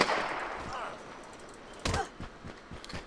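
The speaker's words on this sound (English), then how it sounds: "apologies for the gunshots" Gunshots in the video game GTA IV with the LCPDFR police mod, several sharp cracks in the latter half, fairly faint and scattered over ambient game noise.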